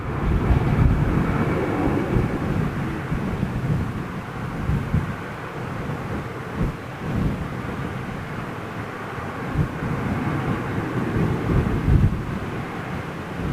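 An Airbus test bed aircraft at Toulouse airport roars in the distance, a broad, wind-buffeted jet rumble that swells and fades over several seconds, with no speech.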